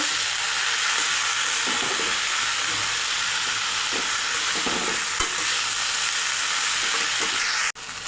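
Boiled banana flower is stirred into a fried spice masala in a hot pan, making a loud, continuous sizzle and hiss with stirring and scraping strokes near the end and no voices.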